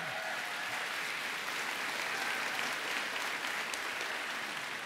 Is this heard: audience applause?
yes